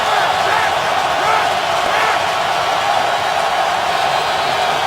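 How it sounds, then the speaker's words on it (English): A large football stadium crowd roars steadily during a Jets versus Patriots game at the Patriots' home field, a dense, continuous wall of cheering and noise filling the whole stretch. "Crowd is energized"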